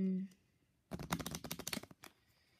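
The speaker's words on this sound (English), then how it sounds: "So I'll shuffle them twice because first time wasn't that good." A deck of playing cards being riffle-shuffled for solitaire, a close, quick burst of rapid flutters lasting about a second, after a short spoken word at the start.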